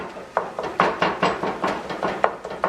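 Wooden spoon knocking and scraping in a pot while breaking up browning ground turkey, a series of about a dozen rhythmic dull clacks close by with light sizzle between strokes.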